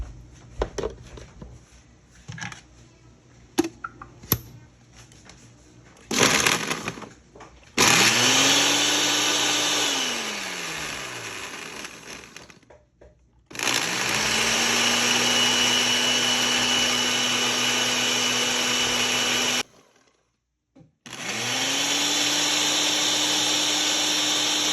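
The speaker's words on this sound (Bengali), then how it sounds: "এটা আমি এখন ব্লেন্ড করে নিব।" A kitchen blender whirs through a borhani mixture of yogurt and spices with a little water, running in three loud, steady bursts separated by short silences, each spinning up with a rising pitch.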